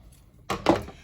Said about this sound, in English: take a pair of scissors, if you still have a little bit of rope left over,